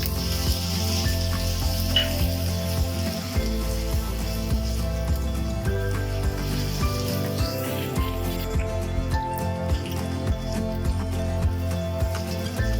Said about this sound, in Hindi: अब हम इसमें लहसुन अदरक का जो पेस्ट है वो डाल देते हैं।